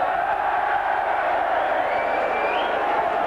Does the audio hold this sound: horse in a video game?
no